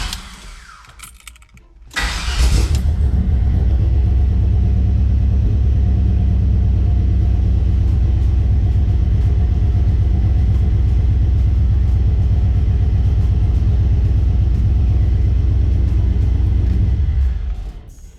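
A car engine fitted with a Holley Terminator X Max fuel-injection system cranks and catches after a couple of seconds of clicks and rustling, then runs in a loud, steady, deep rumble until it shuts off near the end.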